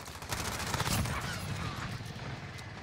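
Rapid gunfire rattles in the Modern Warfare video game on the Shipment map, a dense continuous burst of automatic shots with clattering mechanical sounds, loud and close throughout.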